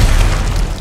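A sharp, loud explosion boom, a single dense burst that fills the whole short moment.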